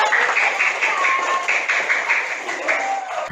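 Classroom applause breaks out for students answering questions about Pancasila: a steady patter of many hands clapping close by, with voices mixed in.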